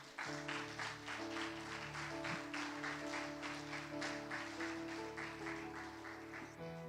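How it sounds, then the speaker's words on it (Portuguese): A church congregation applauds during a Portuguese sermon in a steady stream of clapping, with a sustained musical drone beneath it. "Aplauda o Senhor."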